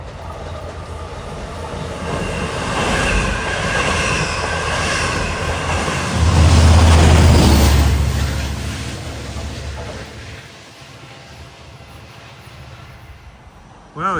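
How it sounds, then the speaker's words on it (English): A westbound LIRR Oyster Bay to Jamaica train approaches and picks up speed after a Mineola stop, a loud steady rumble and roar that swells to a peak midway, then fades as the train passes and recedes. "approaching at 519 westbound is 563 Oyster Bay to Jamaica, picking up speed after his Mineola stop"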